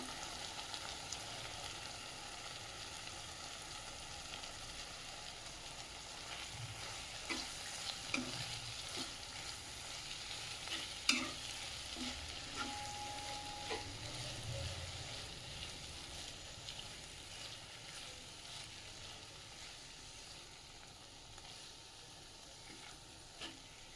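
Chopped capsicum fries with ginger-garlic paste in a pan, a soft continuous sizzle with occasional spoon scrapes and taps, fairly faint and steady, no voices.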